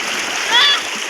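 Children splash in cold river water while bathing, a brief close splash over flowing water with voices around.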